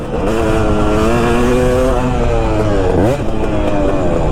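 A two-stroke motorcycle engine revs hard and continuously at close range, its buzzing pitch climbing and dipping through gear changes with a brief drop near the end.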